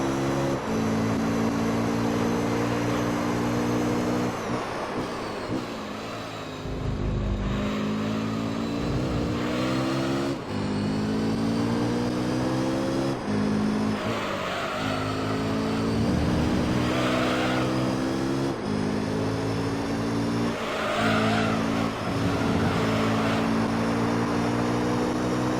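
A Toyota Supra and rival race cars roar around the track in Gran Turismo 3: A-Spec's Amateur All Japan GT Championship. Loud, continuous engine notes rise and fall through gear changes and revving, with no speech.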